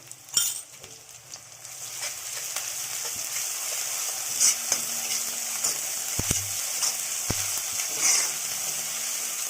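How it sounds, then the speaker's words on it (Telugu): Ginger garlic paste fries in an iron kadai with a steady, close sizzle, broken by a few sharp clinks and scrapes of stirring. "ఇప్పుడు ఇందులోనే అల్లం వెల్లుల్లి పేస్ట్ వేస్తున్నానండి. ఇవి రెండు బాగా ఫ్రై అవ్వనిద్దాం."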